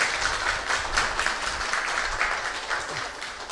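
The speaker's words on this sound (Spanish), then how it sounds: "sí, un aplauso, un aplauso" Faint applause from an audience at a university council candidates' presentation held at the UNED centre in Athens, a steady patter of clapping that sounds distant for a few seconds.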